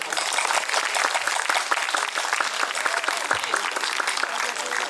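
Crowd at an International Women's Day and Holi festival celebration claps loudly and steadily, a bright, dense patter of many hands that continues evenly from start to finish, with faint voices underneath.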